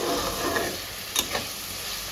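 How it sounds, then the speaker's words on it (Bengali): Chopped onion with ginger, cumin and chilli paste fries in oil, giving a close, steady sizzling hiss. A couple of short scrape-like bursts from stirring cut through it. "এবার ওই সাদা তেল যেটা ছিল ওটার মধ্যে দিয়ে দিয়েছি পেঁয়াজ কুচি, আদা বাটা, জিরে বাটা,"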